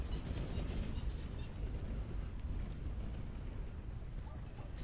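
Horse hooves clip-clop steadily in Red Dead Redemption 2, a dense, continuous thudding of the gait over low rumbling ambience, close and fairly loud.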